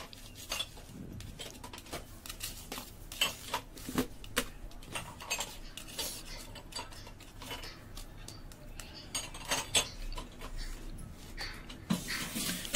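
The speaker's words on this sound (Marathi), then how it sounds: "आणि आता यामध्ये मी थोडंसं चवीपुरतं मीठ ॲड करणार आहे आणि मग ही व्यवस्थित असं मिक्स करून घेणार आहे" Chicken being mixed with biryani masala and salt in a metal bowl, faint irregular scraping and clinking of a utensil against the bowl with soft wet squelches, quiet throughout.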